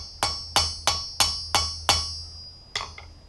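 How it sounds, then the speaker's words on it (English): A ball peen hammer strikes a rivet on hand-forged blacksmith tongs, six evenly spaced ringing metallic blows followed by a slightly different seventh, close and clear with no talking. "take the round end of the ball peen and work around the edge, kind of rough,"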